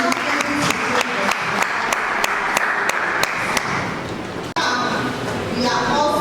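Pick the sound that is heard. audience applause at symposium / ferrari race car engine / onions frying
audience applause at symposium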